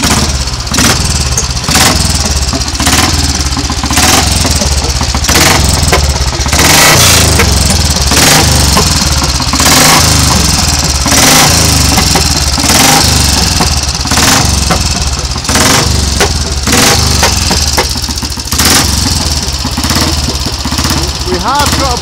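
A Royal Enfield cafe racer 350 motorcycle engine runs loud and steady throughout, with a dense, rough mechanical clatter and regular thumping pulses close by.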